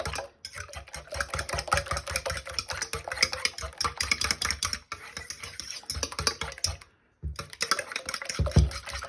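A fork whisks a raw egg in a bowl for Hawaiian roll French toast. The rapid, close clicking and scraping runs steadily and pauses only briefly.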